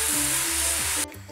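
Ground meat seasoned with black pepper sizzles steadily in a pan for Angelica's cannelloni filling, a loud continuous frying hiss that cuts off abruptly near the end, leaving a quieter background.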